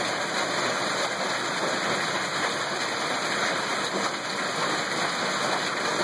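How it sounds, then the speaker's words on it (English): Heavy rain pours steadily after a hailstorm, a dense, continuous roar of water drumming on surfaces with no letup, close and loud throughout. "It was really raining hard."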